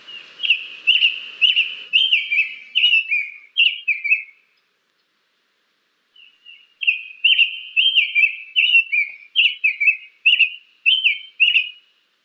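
Tanager song from a bird heard in Tennessee: clear slow whistled phrases in a steady series, a pause of about two seconds, then the phrases resume, loud and close, with no talk over them.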